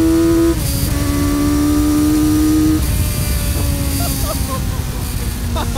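Custom trike powered by a Kawasaki Ninja 900R engine accelerating hard with tire spin, a loud, close, rising engine whine that climbs toward high RPM, with gear shifts and wind roar throughout.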